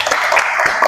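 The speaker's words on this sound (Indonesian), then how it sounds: "Berikan tepuk tangan dulu untuk kelompok 1." Brief applause for a student group presenting at a teacher performance exam session, a dense loud patter of hands clapping in a room, lasting only a moment.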